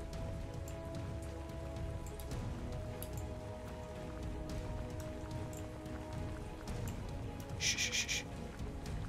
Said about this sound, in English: It's raining, bro.